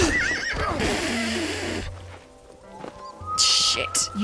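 A horse whinnies loudly and shrilly in Red Dead Redemption, with hoof clatter and game-like effects, while people talk over it.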